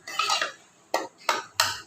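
Metal utensils clink and scrape in a pan while spices are tempered for banana flower and moong dal kootu: one longer scraping rattle, then three short, sharp knocks spaced evenly apart, fairly close and quiet.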